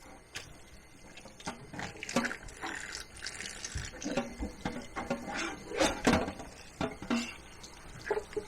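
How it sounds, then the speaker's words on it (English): Liquid drips and splashes close by in irregular bursts as fresh homemade butter made from cow's milk is squeezed by hand to press out the leftover buttermilk. "The goal is just to where the liquid runs clear when you squeeze it."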